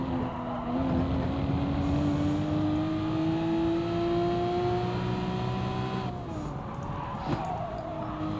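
Race car engine in Gran Turismo Sport on a lap, a loud steady whine climbing in pitch under acceleration before a gear change drops it, then rising again.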